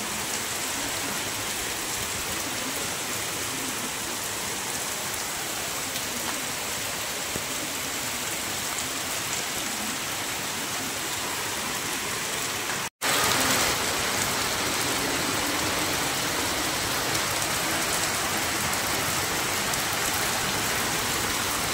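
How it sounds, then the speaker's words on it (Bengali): Heavy rain falls steadily, a loud, unbroken hiss of drops with no voices, cut briefly by a momentary dropout partway through before the downpour continues unchanged. "বৃষ্টি দেখো, বৃষ্টি দেখো, এই হচ্ছে বৃষ্টি।"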